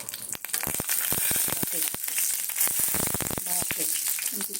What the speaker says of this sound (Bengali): এবারে বড়িটাকে আমি ভেজে নেব